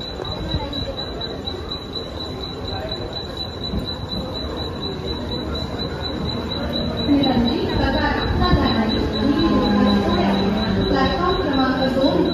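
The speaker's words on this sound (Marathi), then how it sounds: "छत्रपति शिवाजी महाराज टर्मिनसला जाणारी एक जलद लोकल प्लॅटफॉर्म क्रमांक 5 आलेली" A fast local train pulls into Kalyan railway station, its wheels squealing in a long, high-pitched whine over rumbling carriages and clattering rails that grow louder partway through.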